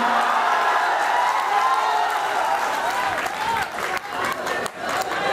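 An audience at a live stage programme claps in dense, sustained applause with scattered cheers and whoops mixed in, the crowd noise steady and full before thinning slightly toward the end.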